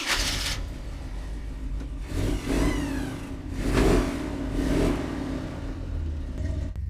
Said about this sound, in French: lançons le moteur pour que vous puissiez entendre ce que ça donne avec le nouvel échappement.